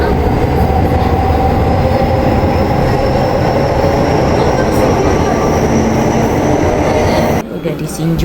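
A train rushes past at close range, a loud, continuous roar of wheels and rumbling carriages that holds steady, then drops away abruptly near the end; a voice is briefly audible beneath the noise.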